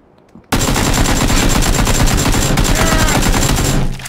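Gunfire in PUBG, a sharp burst of rapid automatic shots that kicks in abruptly and rattles on loudly and continuously for several seconds before cutting off.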